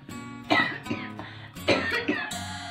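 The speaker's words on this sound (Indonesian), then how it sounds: "Maafkan aku batuknya nggak sembuh-sembuh ya." A woman coughs repeatedly, a series of harsh, close bursts in an irregular rhythm with short pauses between them.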